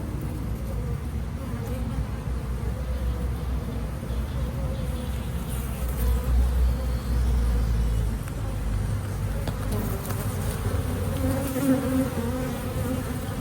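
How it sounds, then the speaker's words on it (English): Honey bees buzz steadily on the nest close by, a continuous low hum that swells briefly now and then, with a faint background rumble. "Here we can see some brand new bees being born on the nest."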